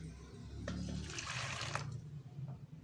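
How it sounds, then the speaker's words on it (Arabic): Boiling water is poured onto grated soap, giving a short, steady splashing pour that stays close and moderately loud for under three seconds, with no talking. "هنحط الميه المغليه"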